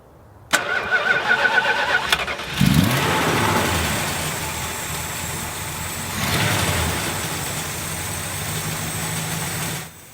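A 1966 Dodge Polara 500 convertible with a 383 cubic inch V8 and 4-barrel carburetor cranks with a few rapid starter turns, fires up with a loud catch, then settles into a steady, rumbling idle up close.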